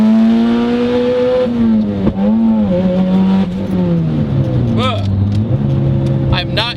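A turbocharged B20-powered Honda EG hatchback accelerates hard, its engine note loud and close as it climbs steadily through the revs, with shifts and brief chirps near the end.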